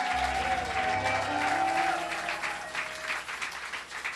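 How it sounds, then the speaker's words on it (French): A church congregation claps loudly and steadily for the Lord, a dense wash of applause throughout, with some musical tones underneath at the start. "Acclame très fort pour le Seigneur"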